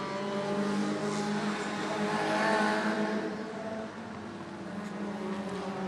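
Short track race cars roar together as they accelerate at the green flag, a loud dense engine drone that swells to a peak and then eases slightly as the pack pulls away.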